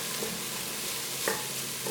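Softened vegetables sizzling in a pot over medium heat as their liquid cooks off, a steady low hiss with a few brief stirring scrapes, close and alone.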